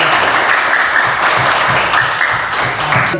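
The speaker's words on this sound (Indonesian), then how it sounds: "Iya, tepuk tangan." Pupils in a classroom clap their hands in a loud, steady burst of applause that lasts a few seconds with no pause.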